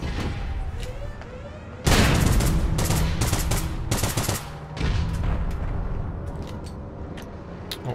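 Grenade explosion in the online shooter APB Reloaded, a sudden loud blast with a crackling tail, followed by bursts of rapid gunfire and a second heavy burst, close and dense.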